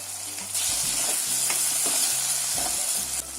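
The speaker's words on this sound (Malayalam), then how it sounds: "ഇതും ഈ എണ്ണയിൽ നല്ലോണം വഴറ്റി കൊടുക്കാം." Ingredients for egg curry sautéing in hot oil, a loud steady sizzle with stirring scrapes, close and continuous without talk.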